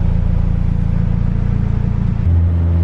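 Turbocharged B18 non-VTEC engine in an EK Honda Civic hatchback running steadily while driven, a loud continuous low rumble with a shift in tone near the end, no talk.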